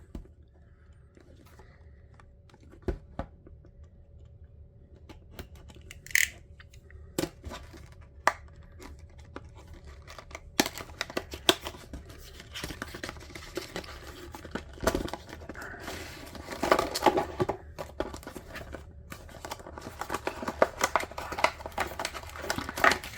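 Tape being cut and torn off a mail package, scattered crinkly rips, snips and crackles that come and go, growing busier and louder in the second half.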